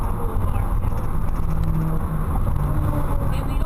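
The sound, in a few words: two cars racing past on a street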